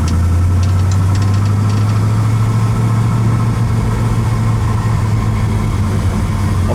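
A blue 1978 Dodge Charger R/T idles with a steady, loud low rumble and slight knocking vibration, running continuously with no voices over it.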